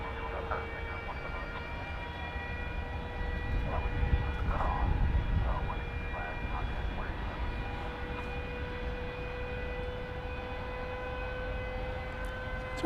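An air start unit supplying air to an Airbus A300 at a busy airport gives off a steady distant whine with constant tonal drones, a rumble swelling briefly in the middle under faint background activity.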